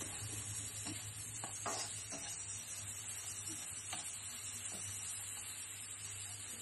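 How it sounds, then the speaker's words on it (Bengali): Dried churi fish and mixed vegetables are stirred and fried in a pan: a quiet, continuous sizzle with a few soft scraping and clacking strokes of the spoon, no talking. "এটাকে নাড়াচাড়া করা হচ্ছে, একটু ভুনা ভুনা করা হবে।"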